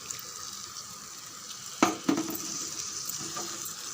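Quiet sizzling of masala frying on low heat in a pan with a little water, with a couple of brief stirring clatters midway and a steady hiss throughout.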